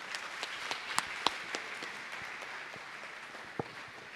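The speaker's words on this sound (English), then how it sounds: "a huge round of applause for Mahesh, sir" Student audience at an alumni meetup at IIT Madras applauding a speaker, moderate scattered clapping with a few sharp, louder individual claps standing out near the listener.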